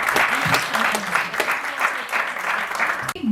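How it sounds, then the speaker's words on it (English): Applause from an audience at an open mic session of a writers festival, a steady wash of clapping throughout, with voices faintly audible underneath. "Can we have a round of applause for her?"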